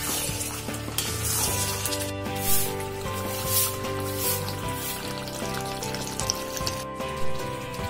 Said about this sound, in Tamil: இப்ப தேங்காய் எண்ணெய் சேர்த்துக்கலாம்.